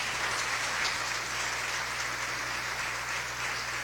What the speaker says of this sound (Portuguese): E aplauda o Senhor.